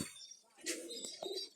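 A pair of pigeons coos softly, with low, faint calls rising briefly above a quiet background of higher chirps.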